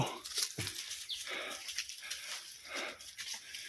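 A dog howls in a forest during a camping trip, a series of rising and falling cries heard at moderate distance with nobody talking.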